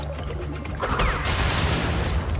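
In Crash Bandicoot N. Sane Trilogy, a loud burst of blasts and crashing debris erupts after a short rumble, dense and booming, sustained to the end.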